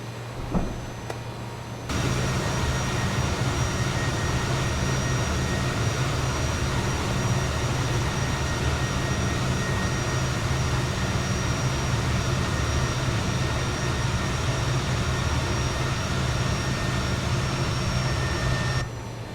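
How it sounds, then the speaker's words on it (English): A Fokker F28 airliner in the MSFS 2020 flight simulator lowers its landing gear on final approach. After about two seconds a steady, loud, broadband cockpit roar sets in and continues unbroken, with no talking. "Gear coming down."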